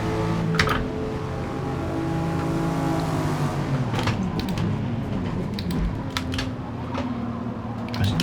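Jaguar XJR-15 race car engine roaring steadily in Forza Motorsport, loud and continuous with shifting tonal harmonics as it runs through corners and down a straight, sharp transient clicks and ticks scattered over the drone.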